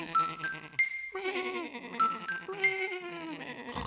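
Several sheep bleat in quick succession, wavering cries overlapping and rising and falling across a few seconds, fairly close and clear with no talking.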